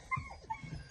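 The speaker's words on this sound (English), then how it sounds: "Dogs are going crazy." Excited dogs whimper and yip in a short, faint burst near a caught fox in the countryside, with soft whines and low grumbles heard briefly at a distance.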